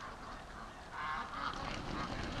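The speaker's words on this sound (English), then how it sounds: "Oh, Doug. Oh, flying duck gets Doug all excited." Free-range ducks taking off and flying over a lake, their honking, goose-like quacks rising into a steady, fairly close chorus that grows louder partway through, with no talk.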